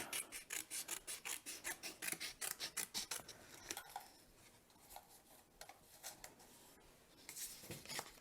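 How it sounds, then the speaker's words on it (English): Scissors snipping a strip off cardstock, a fast run of close, crisp cuts in a steady rhythm, then slower scattered snips and faint paper rustling, quiet and with no talking. "I'm going to cut off a little strip here"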